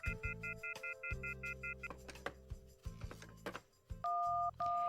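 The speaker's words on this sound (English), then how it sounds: "He dials random numbers and tries to make a call, but nothing happens." Video game telephone keypad dialing, a run of short regular DTMF tone beeps followed by scattered key presses and a longer sustained tone near the end, fairly quiet and with no talking.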